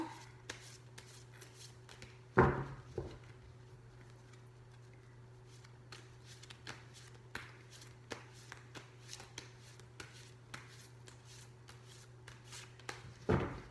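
Tarot cards are shuffled in a long run of quick, soft riffling bursts close by, with a couple of louder handling knocks, under a quiet steady hum.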